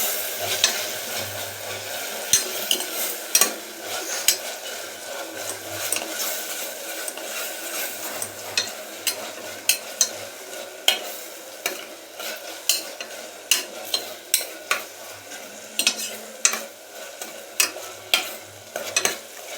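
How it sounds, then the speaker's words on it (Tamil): Mint leaves sauté in a pan for mushroom biryani, with a continuous close sizzle and repeated sharp clinks of a spoon stirring against the metal, growing more rhythmic toward the end, no talk. "புதினா போட்டு நல்லா வதக்கிக்கலாம்"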